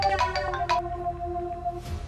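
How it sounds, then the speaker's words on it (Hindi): A mobile phone rings with a bright melodic electronic ringtone, repeating short chiming notes over a low hum, close by in a home. "राजू का फोन"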